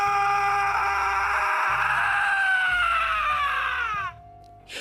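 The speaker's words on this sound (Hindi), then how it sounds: "अचानक रघु के कानों में किशन की दिल दहला देने वाली चीख सुनाई दी।" A long, high, wavering scream in a horror story, loud and close, sliding downward before cutting off, with low rumbling background underneath and no speech.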